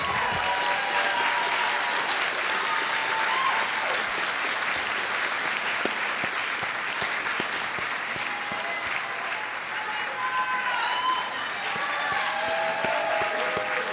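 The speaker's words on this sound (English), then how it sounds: "All right, round of applause" A large audience at a graduation ceremony applauds steadily and loudly for the whole stretch, dense clapping with a few cheers and whoops rising above it.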